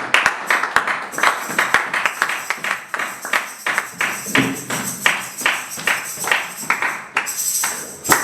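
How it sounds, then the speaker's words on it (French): A church congregation claps in a steady rhythmic beat during worship, loud and close, with music playing along underneath. "On acclame notre Seigneur"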